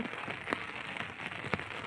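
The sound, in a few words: heavy monsoon rain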